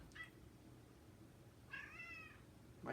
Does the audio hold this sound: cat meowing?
yes